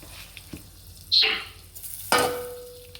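Butter hits a hot pan with a sharp hiss, then a second louder sizzle that settles into steady frying crackle, close by, as butter and a little oil heat for pasta.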